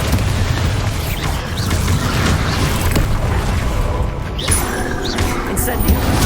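Continuous heavy booming from Bombarda blast spells in Hogwarts Legacy, loud and dense, with overlapping explosions and game effects throughout and speech mixed in.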